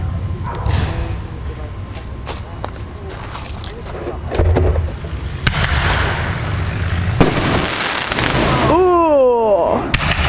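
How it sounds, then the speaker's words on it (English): Fireworks going off during a backyard Fourth of July–weekend show: repeated sharp pops and bangs of varying loudness, some near and some farther off, with a rising whistle near the end, while people talk in the background. "I gotta look out for fireworks."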